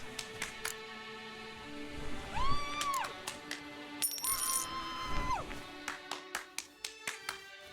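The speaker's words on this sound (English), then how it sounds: "Man, she just won't stop clapping" Crowd of characters clapping in The Witcher 3: Blood and Wine, with scattered then rhythmic claps, a closing run of evenly spaced claps, and game music tones and chimes playing alongside.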